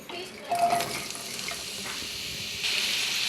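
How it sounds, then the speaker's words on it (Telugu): Chopped onions and green chillies sizzle in hot oil in a pan, a steady crackling hiss with a brief stirring scrape early on and the frying growing louder toward the end. "ఉల్లిపాయలు చక్కగా వేగుతున్నాయి"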